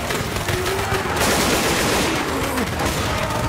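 A constant, heavy barrage of overlapping gunfire runs throughout a Left 4 Dead 2 firefight. It is loud and unbroken, with no clear gaps between shots.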